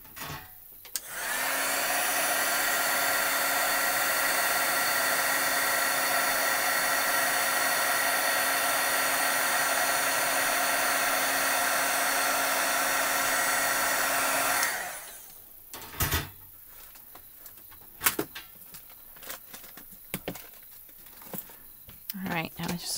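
A heat tool blows steadily for about fourteen seconds while drying alcohol ink on a card panel, a loud even whoosh that starts and stops abruptly and is followed by quieter handling sounds.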